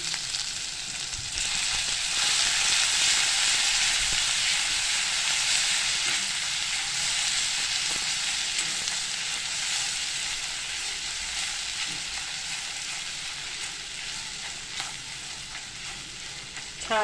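Ginger garlic paste sautés in hot oil with asafoetida for a kaju paneer masala, giving a steady, close, dense sizzle that runs unbroken throughout with no voices.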